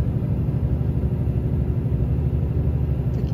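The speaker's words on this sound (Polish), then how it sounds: "To jest ten motor 13, 540 koni." A 13-litre, 540 hp four-axle truck engine running, a close, steady low rumble with a regular throbbing pulse and no talk.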